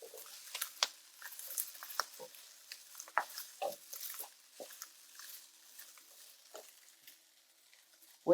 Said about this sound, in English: Now it's time to add the rice back into the wok.